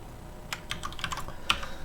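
Typing on a computer keyboard while working through CSS overflow code: a short run of faint, crisp key clicks in uneven bursts, with one sharper keystroke near the end, and no voice.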